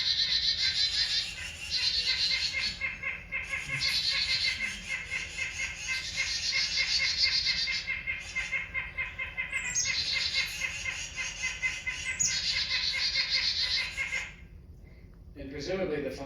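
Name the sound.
recording of three bird species mobbing a predator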